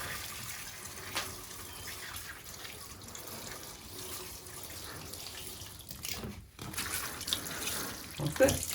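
Water splashes and trickles softly onto freshly sown seeds, a gentle steady pour that grows louder near the end, with quiet talk around it.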